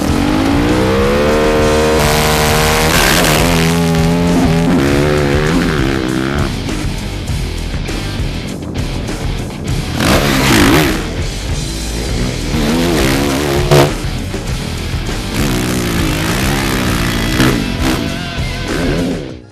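Motocross motorcycles roar around the Zorģi track in Latvia, engines revving hard and rising and falling in pitch as they accelerate and pass close by, continuous and loud without speech.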